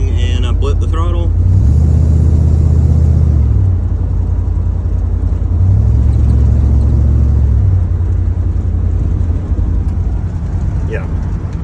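A 1990 Ford F-150 with a swapped 460 V8 and loose converter cruises steadily, then two brief throttle blips swell the low engine rumble; road noise is constant and a voice speaks at the start.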